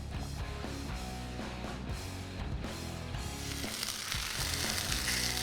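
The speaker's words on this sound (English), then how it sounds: "Yeah, I love to hear that sizzle." Food sizzles in oil on a Blackstone griddle with a steady, dense crackle that swells louder toward the end, heard alone without voices.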